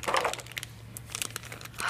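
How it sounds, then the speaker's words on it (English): Plastic packaging crinkles and crumples in close bursts as a Nendoroid figure of Viktor Nikiforov is unwrapped, with a steady low hum beneath the handling noise. "Gotta unwrap him from all his plastic."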